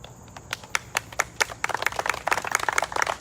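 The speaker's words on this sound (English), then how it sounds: "They really do deserve an applause." A small audience claps at a county commissioners and village land trust meeting; sparse, separate hand claps build into a denser, moderately loud round of applause that grows steadily toward the end.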